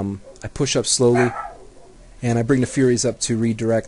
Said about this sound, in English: you could probably hear my neighbor's dogs barking in the background